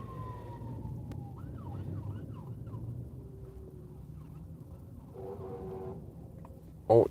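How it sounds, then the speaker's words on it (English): Fire truck sirens wail and yelp at a distance, rising and falling over steady low traffic rumble, with a louder sudden burst near the end. "you can hear the fire trucks"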